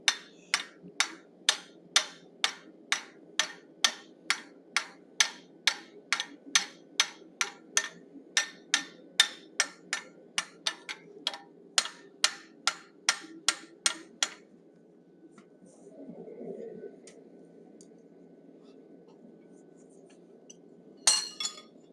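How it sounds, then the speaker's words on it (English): A rounding hammer forges hot metal on an anvil: sharp metallic strikes ring out in a steady, rapid rhythm for a long run, then stop; a brief dull scrape follows and one last tap. "So using my rounding hammer, I'm going to bring back any flare we might have gotten."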